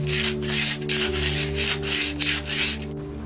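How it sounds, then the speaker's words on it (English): Rhythmic back-and-forth strokes of 100-grit sandpaper on acrylic, about a dozen steady scratchy passes close up, with a low hum running underneath. "So I have completed sanding with the 100 grit paper."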